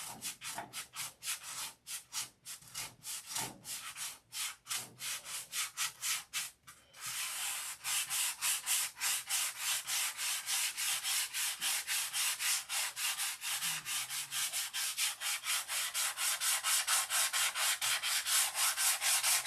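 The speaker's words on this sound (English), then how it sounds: "But see, Jim, I am sanding the bottom." Rapid rhythmic hand sanding strokes with 1000 grit sandpaper, back-and-forth rasping that starts uneven then settles into a fast, steady scrubbing close by.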